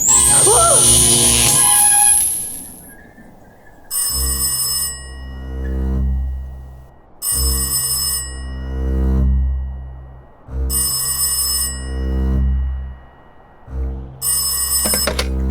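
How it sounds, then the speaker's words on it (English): An old-fashioned telephone bell rings loudly in a radio play, in four long evenly spaced trills separated by short pauses, following a brief rising whistle-like effect at the start. "The customers look at each other as Trooper Padgett answers the phone and wonder who it could be"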